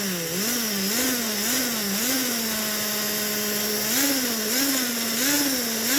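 Refurbished Silver Streak slot car chassis with a non pull-more armature, its small electric motor spinning at about 6 volts: a steady, loud, close high-pitched whine whose pitch wavers up and down as it revs, with no talk.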